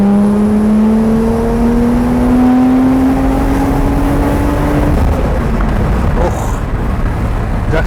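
A Toyota Mark II JZX100 with a 3-litre engine and one large turbo revs hard under acceleration, its loud whine climbing steadily in pitch before dropping off and settling into a rough engine drone.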